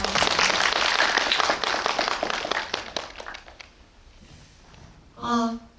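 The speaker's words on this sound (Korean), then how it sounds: "박수 한번 부탁드립니다" Audience applause at a Korean film screening Q&A, loud clapping for the first few seconds that fades away, followed by a brief voice near the end.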